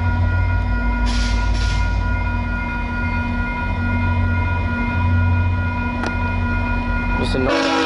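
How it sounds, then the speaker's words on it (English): A VIA passenger train, VIA 87, rumbles steadily past a railway crossing, a loud continuous roar with sustained tonal hum and brief sharper squeals near the end, no one speaking. "The only train actually to manually activate the crossing today."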